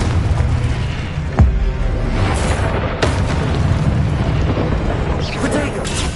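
A Confringo spell bursts with a fiery boom in the Hogwarts video game, over a steady rumble of battle noise and a few sharp impacts.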